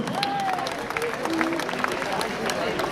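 Crowd applause fills a women's judo club final, steady clapping and cheering from a large audience at a European club cup final in Orléans, with a voice talking over it.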